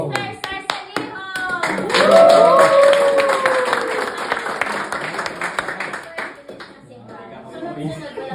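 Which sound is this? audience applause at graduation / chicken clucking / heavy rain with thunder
audience applause at graduation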